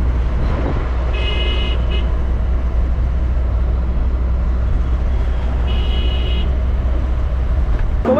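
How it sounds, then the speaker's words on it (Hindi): Traffic jam on an Indian road, a constant loud drone of idling engines with two horn honks, one near the start and one later. "पूरा पूरा जाम लगा है भाई।"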